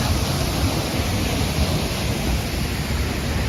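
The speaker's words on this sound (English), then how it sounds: "The river's high because they've had a lot of rain here. So the water is coming down." A high river in Uruapan, Mexico, swollen after heavy rain, makes a loud, continuous roar of rushing water that stays steady and close, with no voices.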